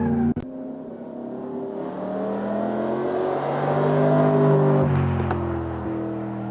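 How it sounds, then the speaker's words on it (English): A 1989 Mercedes SL 500 on a track accelerates hard, its engine note rising steadily through a strong, close drone with a brief click at the start and a gear shift near the end. "What a lovely sound that engine makes."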